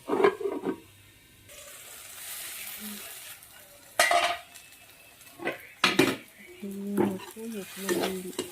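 A lid set onto a cooking pot of tomatoes and spices, with a few clinks and knocks of metal cookware over faint sizzling, scattered across a quiet kitchen.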